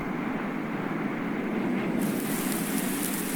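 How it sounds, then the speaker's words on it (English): Steady, dense rain hisses close by on a farm, an even wash of noise that never lets up and brightens slightly partway through; no one speaks. "Rain."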